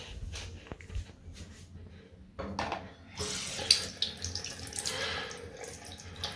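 A tap runs into a sink, a soft steady trickle that swells into a fuller splashing stream partway through, close and moderately quiet, with faint voices in the background.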